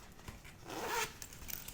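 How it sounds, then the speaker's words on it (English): A gold zipper on a cat-themed pencil pouch is drawn once in a quick, close, soft rasping pull that swells and fades within about a second. "We have this gold zipper."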